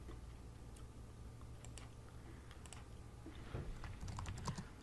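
Computer keyboard typing in Word, with quick, irregular clicks of keystrokes close by and a few louder taps near the end, all very quiet.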